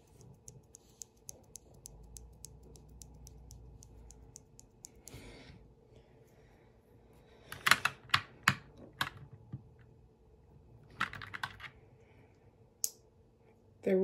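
A mechanical keyboard with switches lubed with Vaseline is typed on, giving quick runs of muted, close keystroke clicks and denser clattering bursts separated by brief pauses.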